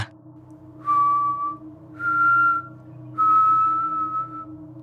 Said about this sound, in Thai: ผมได้ยินเสียงผิวปากดังขึ้นอีกครั้ง มันมาจากข้างหน้าทางขวา